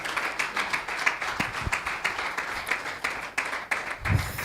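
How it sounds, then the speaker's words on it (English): Steady applause from a convention audience, a dense wash of clapping that carries on evenly without pause, with a few low thumps near the end. "Please keep clapping until she gets here."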